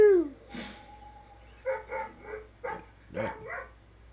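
A dog in the video game Assassin's Creed Rogue barks several times in short, separated bursts after a rising whine at the start, clear and moderately close with no talk over it.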